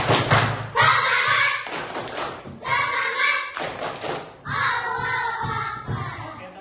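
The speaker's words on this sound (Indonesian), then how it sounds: "coba tepuk semangat" Classroom of students performing a rhythmic clapping chant, bursts of clapped patterns in repeated phrases with short pauses between, loud and close, mixed with voices chanting along.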